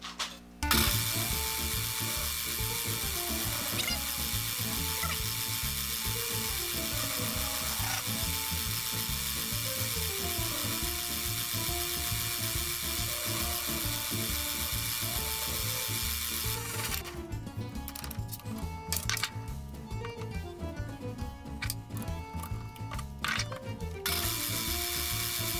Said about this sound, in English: So I'm just going to start the lathe,